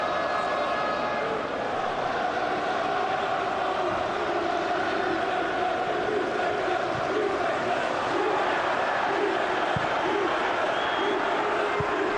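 Roar of a football crowd of about 15,000 inside Hampden stadium during a Dunfermline versus Falkirk cup semi-final, a constant loud wash of chanting and cheering with occasional sharper shouts.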